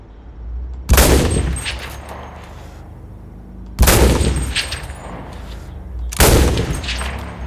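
Gunfire in the video game CRSED: three loud, heavy single shots a few seconds apart, each a sharp close blast with a long rumbling tail. No one talks during the shots.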